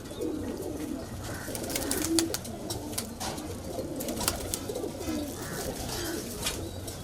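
Old kalpare high-flyer pigeons coo softly and repeatedly in a loft, a low rolling murmur of several birds close by, with occasional rustling and no talking.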